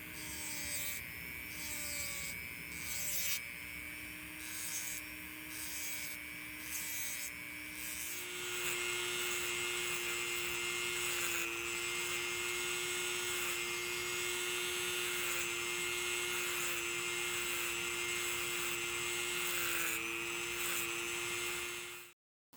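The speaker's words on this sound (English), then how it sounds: "I started sanding the blades with a 120 grit belt in my 1x30 machine." A 1x30 belt sander with a 120 grit belt grinds pocket knife blades, a close, steady high-pitched whine with a sustained tonal hum, broken by short rhythmic contacts early on, then running continuously before cutting off.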